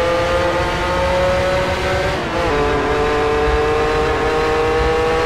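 A Ferrari 512 TR engine hums loud and steady with a strong droning tone, dipping briefly midway and then rising again as the revs are blipped during a heel-and-toe downshift.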